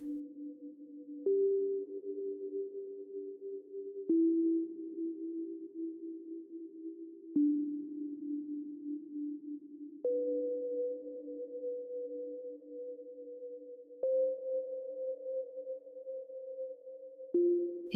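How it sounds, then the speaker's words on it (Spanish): Soft sustained tonal pulses for meditation, steady tones that step to new pitches every few seconds, calm and even, heard alone without voices. "Estos pulsos de sonido que escuchas es el ambiente del universo."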